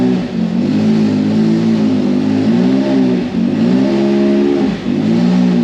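A Can-Am Maverick X side-by-side engine revs steadily in neutral, kept under about 3,000 RPM to warm a new CVT drive belt, a loud continuous drone that dips briefly around two short throttle lifts.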